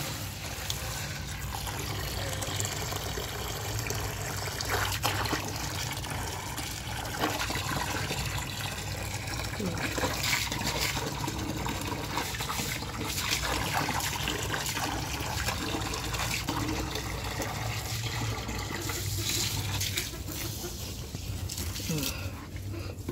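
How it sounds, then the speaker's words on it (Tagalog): Water pours and splashes steadily into a chicken's container for a long stretch, while a person talks over it intermittently. "lagyan ko lang daw ng tubig"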